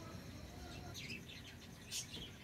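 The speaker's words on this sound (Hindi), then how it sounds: "ये देखो तोते हैं।" Pet parrots kept at an ashram give faint, scattered chirps over a constant outdoor background hiss, with one slightly louder call near the end.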